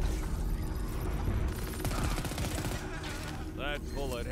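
Rapid gunfire from the video game Crackdown 3 crackles through a dense, loud mix of in-game noise, with bursts clustering midway and whistling electronic tones near the end.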